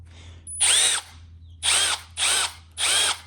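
A Milwaukee Fuel cordless drill with a new chuck whirs in four short bursts, each rising to a steady high-pitched spin before cutting off, close up with brief pauses between.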